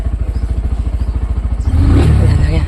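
A motorcycle idles nearby with a fast, even thumping beat, then the throttle opens into a louder, rougher rev.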